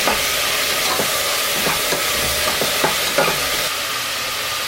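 Onions and chilli fry in a pan for biryani with a loud, even sizzle, and a spoon stirs them in a few spaced scrapes and knocks close by.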